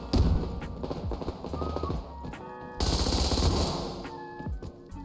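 Rapid bursts of automatic gunfire in the Survarium shooter, loud and close, with a steady rattling stream of shots, a brief pause near three seconds, then another sustained volley.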